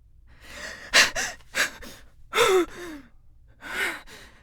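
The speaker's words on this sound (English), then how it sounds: "Some things we'll record with the movie playing and repeating what we see, like breaths." Breaths performed as foley for a short Super 8 film: four separate gasping inhales and sighing exhales, close and fairly loud, spaced with short pauses and no talking.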